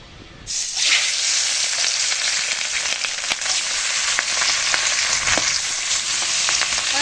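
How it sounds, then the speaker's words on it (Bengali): Pabda fish drop into hot oil in a wok, and a loud, close, crackling sizzle bursts in after a moment and holds steady throughout, with scattered pops. "কড়াইতে তেল দিয়ে দিয়েছিলাম তেল গরম হয়ে এসেছে এখন মাছগুলো ভেজে নেব"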